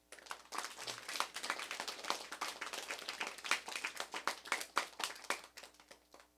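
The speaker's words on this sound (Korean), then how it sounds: "박수 한번 쳐줘요" A church congregation claps in a quick, uneven burst of distinct hand claps that rises and falls, fairly quiet and a little distant, with no talking over it.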